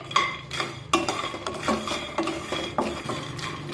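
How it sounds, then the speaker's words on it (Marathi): Peanuts roasting in a pan over a medium flame are stirred with a utensil, making repeated scraping and clinking strokes roughly every half second, close by, with no speech. "मध्यम आचेवर शेंगदाणे भाजून घ्यायचे"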